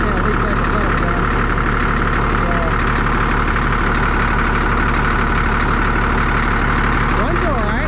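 A Caterpillar D6D bulldozer's diesel engine idles loud and close in a steady, unbroken rumble, with a voice faintly audible beneath it near the end.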